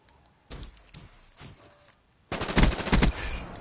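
Automatic gunfire in Call of Duty: Black Ops 3, a heavy-recoil weapon. Short bursts at first, then a loud sustained burst near the end, with no speech.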